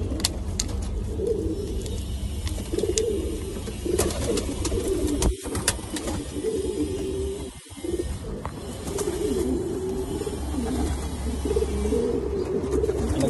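Pigeons suffering in hot, sunny weather coo repeatedly in soft, low rolling phrases over a steady background hum, fairly close and continuous.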